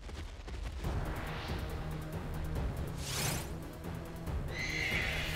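Horse-like neighs and whinnies, the game cry of the Pokémon Calyrex built from modified stock horse sounds, rise and fade over a steady background rumble with faint clopping.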